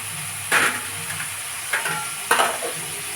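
Sweet corn frying in a pan gets stirred, with a constant steady sizzle broken by three scraping strokes of the spoon against the pan at roughly even intervals.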